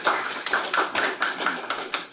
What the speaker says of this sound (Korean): 권미윤 교수님께 박수 한번 더 주십시오